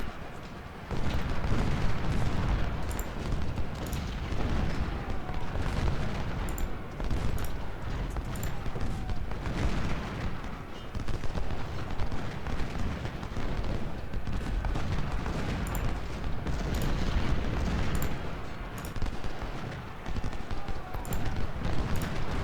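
Continuous cannon and artillery fire in the Civil War strategy game Ultimate General: Civil War at the Battle of Shiloh, dense overlapping booms and crackling volleys rolling on steadily without pause.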